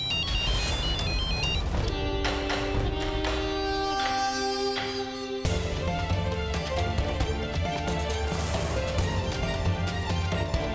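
A mobile phone plays its melodic ringtone loudly and repeatedly, left unanswered, with the tune pausing briefly then resuming in a fuller, busier pattern, no speech over it.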